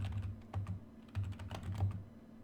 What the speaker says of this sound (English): To exit Hercules properly, you can type in